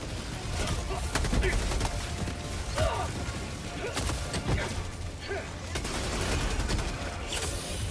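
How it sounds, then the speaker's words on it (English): Full-auto Liberator Penetrator rifle fire in Helldivers 2, bursts of rapid shots mixed with explosions and mechanical clatter in a dense, continuous battle din. "Liberator Penetrator full auto is so good, dude."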